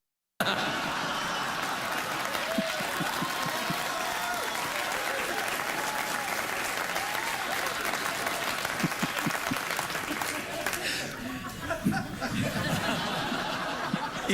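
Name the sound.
studio audience applause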